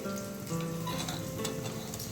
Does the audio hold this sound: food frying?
yes